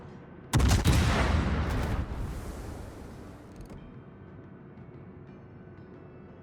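Naval guns of a lighter calibre fire in a warship video game, a burst of heavy booming blasts that opens loudly and then rolls into a long fading rumble with no talk over it.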